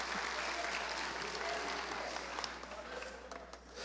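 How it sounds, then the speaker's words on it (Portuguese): Audience applause at a workplace mental health talk, a quiet but dense round of clapping that gradually thins and fades toward the end. "Um salve de palmas para ele"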